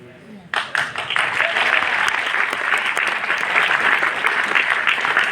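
An audience at a success celebration in Delhi bursts into applause after a brief quiet start, a dense, sustained wash of many hands clapping that carries on evenly to the end.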